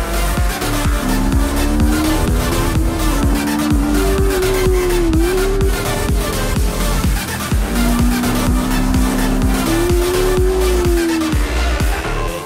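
A racing motorcycle engine whines loudly at high revs, rising and falling as it shifts through gears, steady and close throughout.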